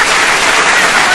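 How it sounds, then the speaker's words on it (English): Recorded applause and cheering plays on a podcast, a dense, loud wash of clapping that fills the whole short moment without a break. "I put the applause on."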